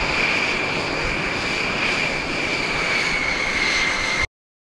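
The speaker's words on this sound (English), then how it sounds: "Powered by four monstrous engines, the B-2 Spirit Bomber gracefully takes to the skies" A B-2 Spirit stealth bomber with four jet engines roars steadily as it takes off, a loud continuous broadband rumble with a sustained whine on top, holding even for about four seconds before cutting off abruptly.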